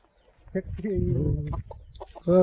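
Free-range country hens on a farm, dust-bathing in ash, cluck close by in a few short bursts, with one longer drawn-out call in the middle.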